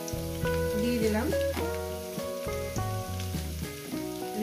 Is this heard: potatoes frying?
yes